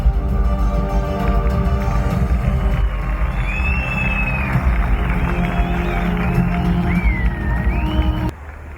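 An audience at the Kayapınar film days award ceremony applauds and cheers over a sustained music bed, with whoops and shouts rising before the sound cuts off abruptly.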